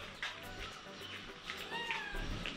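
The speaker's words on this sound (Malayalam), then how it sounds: "പൂച്ച." A Bengal cat meows a couple of times, fairly faint, against quiet background noise in a place housing exotic animals and birds.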